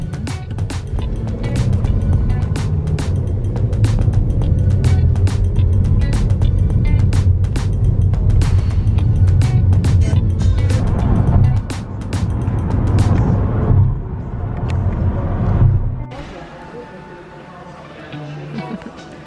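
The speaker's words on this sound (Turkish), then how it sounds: "Test sürüşüne çıkıyoruz." A new Kia car out on a test drive, its engine and road noise running steadily under people talking inside, easing to a quieter hum near the end.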